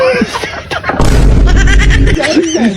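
A firecracker bursts into a loud, roaring blast lasting about a second, with excited voices talking and shouting before and after it.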